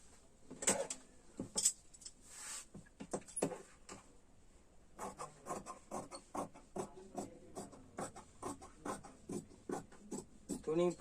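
Scissors snip through men's shirt fabric, cutting out the back piece for a size 38 shirt, in a run of close, crisp, regular cuts and rustles with a brief pause partway through.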